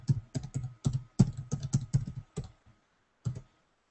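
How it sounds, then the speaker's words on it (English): Someone types on a computer keyboard, a quick run of about a dozen crisp, close keystrokes, a short pause, then one final press. "Talking and typing at the same time, never a good idea."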